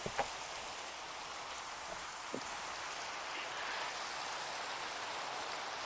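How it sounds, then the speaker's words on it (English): Steady rain in Minecraft falls in a constant soft hiss, with a couple of faint drips standing out at the start. "it's still raining"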